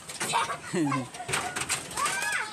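Pet pigeons coo in soft, low rolling calls, close by, while voices chatter around them.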